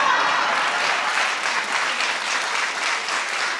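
Studio audience applause on a daytime talk show, a steady wash of clapping from a crowd that holds at an even level for several seconds with no talking over it.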